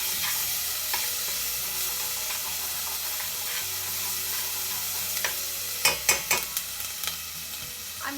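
Red curry paste is stirred into a hot pot for vegan Thai coconut soup, giving a soft continuous sizzle with scraping spoon strokes and a cluster of sharper clinks near the end.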